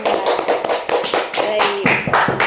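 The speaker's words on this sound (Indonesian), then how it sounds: "tepuk tangan untuk kita semua" A class claps hands in applause at the end of a lesson, a brisk run of sharp, close claps in a loose rhythm, with speaking voices overlapping the clapping.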